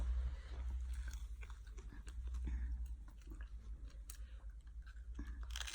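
A child bites and chews food, likely carrots or vegetables at home, with soft crunchy chewing sounds close by over a low background hum and no talking.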